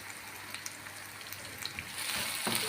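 Long-sliced green chillies dropped into a pan, a soft fine frying hiss with small crackles that swells into a louder sizzle near the end.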